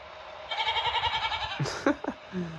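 Sheep bleat sound effect from a Broadway Limited GS4 Paragon 2 Southern Pacific HO scale model locomotive, a single wavering electronic baa lasting about a second, followed by brief clicks and a short tone.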